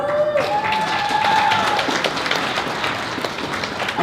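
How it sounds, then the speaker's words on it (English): Convention audience giving a round of applause for a volunteer at a fan convention seminar, a crowd clapping with cheers and a brief whistle-like tone early on, fading slightly toward the end. "let's get a round of applause."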